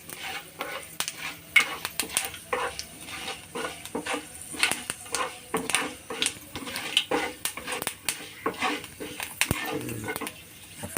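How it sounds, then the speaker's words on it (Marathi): Cumin, fenugreek and mustard seeds roast in a dry pan, with irregular scraping and stirring taps of a utensil against metal and a faint crackle, close and fairly quiet. "जिरं, ही मेथी चांगले भाजून घ्यायचं आपल्याला त्याला."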